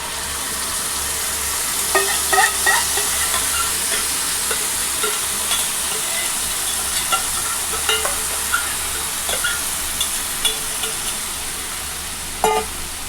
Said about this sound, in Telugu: చింతపండు గుజ్జు అది అయితే వేసేసుకుంటున్నాను